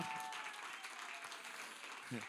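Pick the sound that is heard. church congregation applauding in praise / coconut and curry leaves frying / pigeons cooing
church congregation applauding in praise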